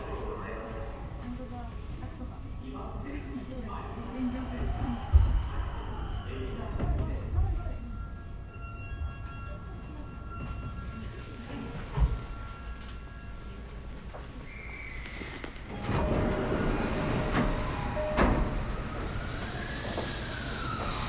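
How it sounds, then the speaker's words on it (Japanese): A Sotetsu 11000 series electric train with Mitsubishi IGBT-VVVF drive rumbles and hums as it begins to move at Yokohama, with a rising motor whine, faint wheel squeals and a calm Japanese announcement over the carriage noise. "電車が前に動きます。"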